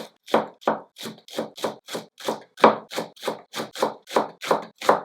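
A knife cuts pear halves into thin strips on a board, making steady, evenly spaced chopping knocks, roughly three per second, close and clear with no talking.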